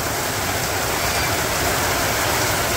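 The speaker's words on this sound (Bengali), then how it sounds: "যে বৃষ্টি নামছে" Steady rain pours down in a Bangladeshi village, a constant close wash of patter and hiss with no breaks and no voices.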